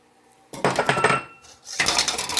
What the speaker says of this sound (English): it's just stirring them around here the whole time so they get nice and coated